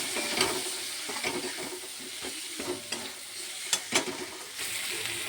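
Spices and peas sizzle in hot oil while a utensil scrapes and stirs the pan in irregular strokes; no voices.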